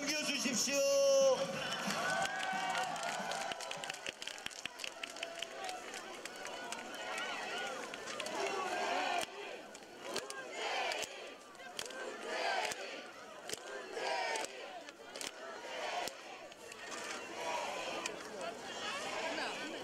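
A large outdoor campaign rally crowd in Masan cheers and applauds while voices shout over the noise, rhythmic bursts of clapping and roaring that rise and fall for about twenty seconds.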